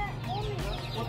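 Painted chickens at the Yangiabad Bazar market in Tashkent give brief, scattered clucks amid the market hubbub, with people talking close by.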